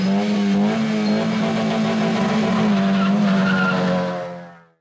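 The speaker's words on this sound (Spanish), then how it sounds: "Se realizó también una demostración de piques con autos clásicos." Classic cars drag racing at a town festival in Puerto Quito, with loud sustained tire squeal and roaring engines close by, holding steady for several seconds before fading out.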